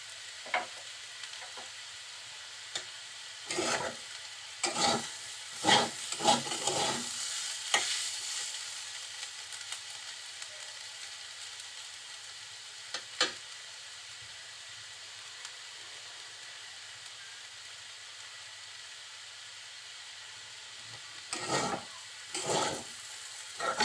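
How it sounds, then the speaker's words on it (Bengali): Small new potatoes fry uncovered in a pan over low heat, giving a quiet steady sizzle broken by several scattered clinks and stirring scrapes, with a clustered burst of stirring early on and another near the end. "এখন আর ঢাকনা দিব না খুব আস্তে চালে ভাজিটা করব"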